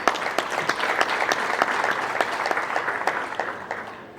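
Applause from a concert audience, steady and fairly close, with distinct individual claps standing out through the crowd's clapping before it thins at the end.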